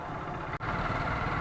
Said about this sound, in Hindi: बाइक पे जा रहे हैं आराम आराम से।